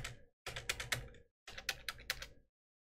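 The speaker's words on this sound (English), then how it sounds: "I'm pushing the key to continue." Computer keyboard keys pressed in two quick bursts of several clicks each, close and clear, separated by a short silence, while playing the horror game Siren Head.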